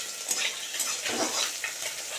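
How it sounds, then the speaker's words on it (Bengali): Fish, cauliflower and carrots fry in pans on a home stove, making a soft, close sizzle with light stirring scrapes, quiet and without talking. "এখানে মাছ ভাজা চাপিয়ে দিয়েছি, আর এখানে দেখো ডালের জন্য ফুলকপি ডিম কড়াই আর হচ্ছে গাজর ভাজা হচ্ছে"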